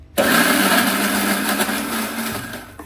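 A kitchen blender grinds a puree for a dum aloo curry, a loud, steady whirring motor running continuously for nearly three seconds with no talking.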